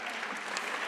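An audience at a gala cheers and applauds, a dense, even wash of clapping heard from a distance, with no pauses.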